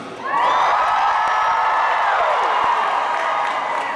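Crowd at a Comic-Con convention panel cheering and whooping loudly for about four seconds, a sustained roar of many voices with high shouts rising over it, close and full.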